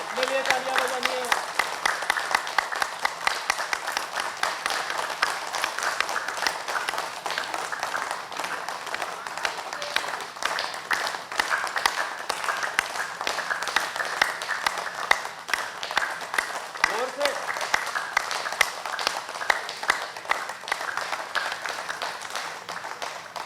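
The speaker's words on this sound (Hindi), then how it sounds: "अपने लिए तालियां बजानी है।" A large healing-summit audience gives sustained applause for themselves, a dense, even wash of many hands clapping that holds steady for over twenty seconds with faint voices underneath.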